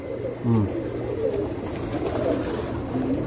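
Pigeons coo on a home rooftop in a low, murmuring burble that rises in short phrases over steady background noise.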